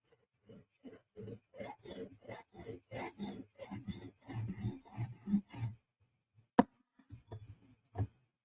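A knife is drawn in repeated passes across the stone of a TSProf Kadet sharpener, making a rhythmic series of short, dry scraping strokes, about a dozen in even succession. A couple of sharper clicks follow after a brief pause.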